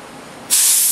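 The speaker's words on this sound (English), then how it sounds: "So spray it on until it's wet, wipe your area" After a brief quiet moment, an aerosol of wax and grease remover bursts into a steady, loud, close hiss of spray that holds to the end.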